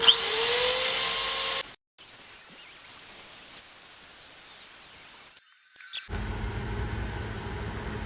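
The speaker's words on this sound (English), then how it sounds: "So time to sand down from 80 to 400." A steady, high-pitched whirring of a power sander on a turned wooden pedestal bowl, cutting out briefly and restarting with a lower, rougher grinding tone; no voices.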